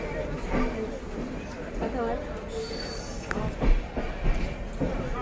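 An Indian train at Ghushkara station on a trip home from Santiniketan, with carriages rumbling and wheels squealing in the distance beneath close, continuous chatter and talk.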